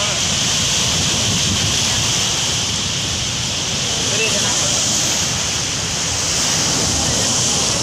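Heavy, continuous roar of rushing water from Gokak Falls in full monsoon flow, loud and unbroken throughout, with a windy rumble.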